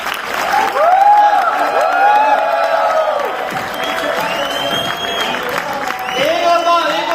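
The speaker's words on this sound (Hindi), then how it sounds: "तो चलिए जोरदार तालियों से" A large audience at a university entrepreneurship summit cheers and applauds loudly, with whoops and shouts rising over sustained clapping, fading slightly midway and surging again near the end while a speaker's voice cuts in.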